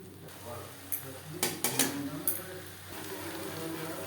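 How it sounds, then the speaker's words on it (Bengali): Boiled potatoes being stirred into spices in a pan: soft sizzling frying with a cluster of spatula scrapes and clinks against the pan in the middle, close and moderately loud. "আলু বেশ ভালো করে মিক্সড করে দেবো।"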